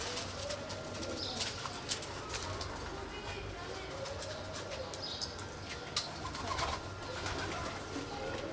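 Pigeons coo steadily outside a furnished seaside apartment near the metro, a soft, continuous murmur of calls over a low background rumble, with occasional brief chirps.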